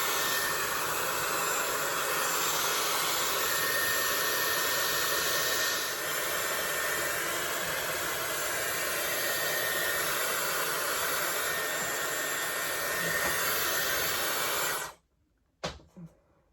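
Dyson Airwrap blowing air while drying hair, a loud continuous whooshing roar held steady for most of the stretch, then cutting off abruptly into near silence with a couple of small knocks.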